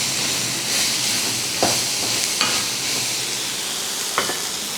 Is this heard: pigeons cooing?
no